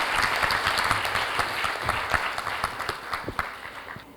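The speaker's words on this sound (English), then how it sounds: "Can we give her another round of applause" Sustained applause from a conference audience honouring a Ghanaian justice, steady dense clapping at moderate volume with no talk over it.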